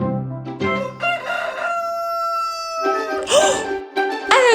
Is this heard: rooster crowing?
yes